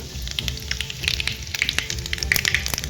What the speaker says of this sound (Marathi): इथे बघा चांगली मोहरी तडतडलेली आहे आपण आता ह्याच्यात जिरे टाकूया थोडासा हिंग